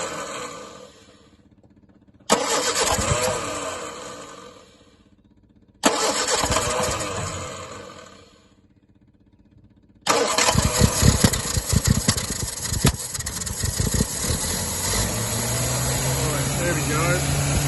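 The Rootes 1725 engine of a Fastback cranks on choke in two separate bursts and fails to catch. On the third attempt it fires and settles into a steady, rough idle, recorded close up.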